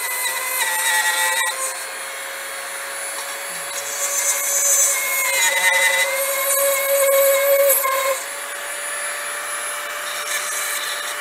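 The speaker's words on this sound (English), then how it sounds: "We're going to start the drill, and then we're going to bring it up to a 90 degree angle." A steady grinding, rubbing whine of a drill bit boring a hole in stained glass, continuous and close, with slight rises and dips.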